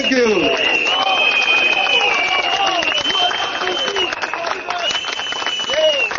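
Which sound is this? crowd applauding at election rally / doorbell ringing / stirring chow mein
crowd applauding at election rally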